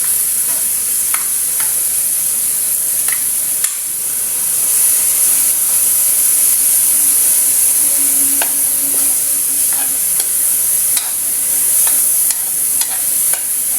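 Tofu and tilapia with kangkong stir-fry in a pan, giving a steady loud sizzle and hiss with occasional light clicks and scrapes of stirring throughout, no talk.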